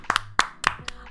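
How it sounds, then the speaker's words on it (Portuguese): A few sharp hand claps in quick succession, close and crisp, welcoming a guest onto a podcast. "Uma salva de palmas!"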